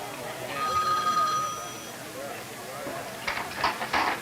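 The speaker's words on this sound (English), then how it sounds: "He feels unnecessary and is glad when the phone rings" An old 1960s telephone rings with a steady metallic bell tone in a quiet home while a voice narrates over it, followed by a few sharper clattering sounds.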